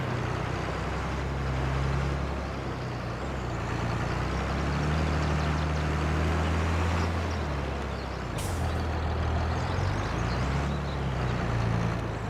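Low, steady engine drone of a John Deere tractor in Farming Simulator 22, running continuously throughout with slight shifts in pitch and a brief hiss partway through.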